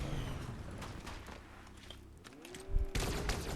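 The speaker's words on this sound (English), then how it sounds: "who's shooting at us?" Gunfire in the video game Fortnite crackles in rapid, fairly faint bursts amid game sounds, with a louder thump near the end.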